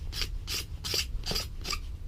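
A knife scrapes and trims a dry thistle stalk to shape a bow drill spindle, giving five rhythmic rasping strokes about a third of a second apart, close up and fairly quiet.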